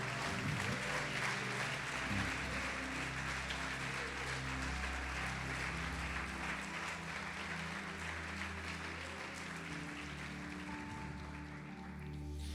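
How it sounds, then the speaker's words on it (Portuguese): A church congregation applauds, sustained clapping spread across the room over a low hum and faint musical tones, continuing at an even level for over twelve seconds. "Pode aplaudi-lo e glorificá-lo."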